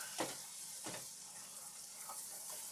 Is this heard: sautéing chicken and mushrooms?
yes